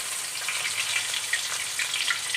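Onion dropped into hot oil with black cumin seeds in a kadai, a bright continuous crackling sizzle with small popping spatters, close and even throughout.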